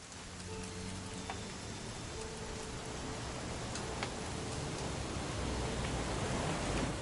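Steady, dense rain falls from the game What Remains of Edith Finch, a constant close hiss of drops on surfaces for the whole stretch, with no talk.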